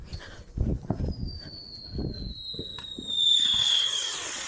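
Backyard fireworks set off for America's 250th anniversary: a few sharp pops, then a rising whistle and a crackling burst, heard nearby and fairly loud.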